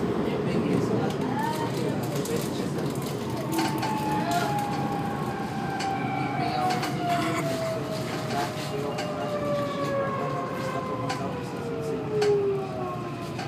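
A CPTM TUE 7000 electric train runs on Line 9 Esmeralda between Autódromo and Socorro, a steady interior rumble of wheels on rail with a long descending motor whine and scattered clicks throughout.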